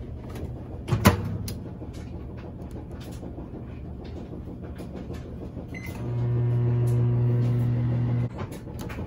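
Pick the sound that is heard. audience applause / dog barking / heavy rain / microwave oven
microwave oven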